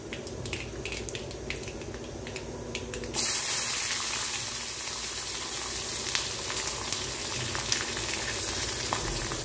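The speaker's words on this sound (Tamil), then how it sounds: "பூண்டு நல்லா வதங்கட்டும்." Garlic fries in a pan for a tamarind and onion dish, giving a steady close sizzle that jumps louder and brighter partway through as it hits hot oil, then holds as a continuous hiss with small pops.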